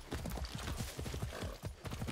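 Horse hooves clip-clop in a steady quick rhythm in Far Cry 6, a close, continuous trotting with no talk over it.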